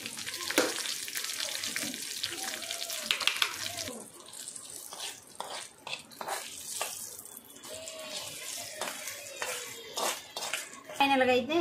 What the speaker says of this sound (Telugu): ఇప్పుడైతే అదే కళాయిలో మళ్ళీ పోపు పెట్టుకుంటున్నాను.